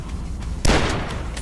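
A single loud, sharp blast of gunfire at an enemy in the game Dusk, sudden and close, followed by a short decaying tail over a constant low rumble.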